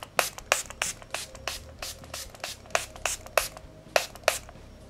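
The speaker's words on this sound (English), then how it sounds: "I'm going to put a bit of setting spray on" Revolution Glass Glow Fix setting spray misted from a pump bottle, a rapid series of about a dozen short hissing spritzes close by, with no talking.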